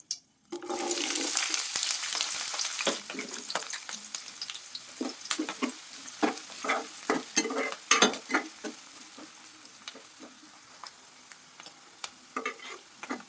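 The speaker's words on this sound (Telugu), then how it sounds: "ఇప్పుడైతే కొంచెం ఫ్రై అయ్యండి." Green chillies and onion sizzle in hot oil with a bay leaf and two cloves for a snakehead fish curry, opening with a loud burst of frying that settles into a steady crackle with sharp spatters and stirring clicks, without talk.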